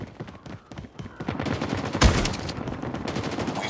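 Continuous gunfire during a close Call of Duty multiplayer match, with a loud shotgun blast standing out midway amid rapid shots and busy battle noise.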